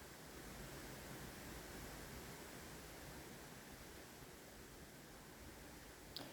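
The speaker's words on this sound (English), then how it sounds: "There is such a wind blowing today, so the trees are really making a noise outside here." Wind rushes steadily through trees outdoors on a very windy day, a soft, continuous broadband roar heard faintly and alone, with no talking.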